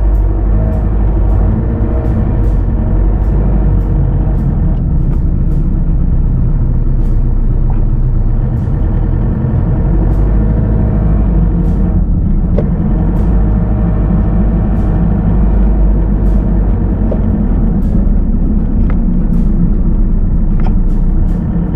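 Congested traffic near the Porsea market heard from inside a Kia Carnival diesel: a steady, loud low rumble of idling engines and slow-moving vehicles that fills the whole stretch, with faint ticking clicks on top.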